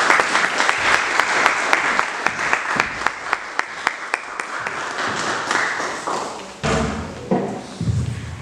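Applause at an evangelical church service starts as steady rhythmic clapping in unison, with sharp regular beats and thumps. It then swells into a louder, looser crowd ovation.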